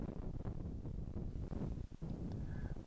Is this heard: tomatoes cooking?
no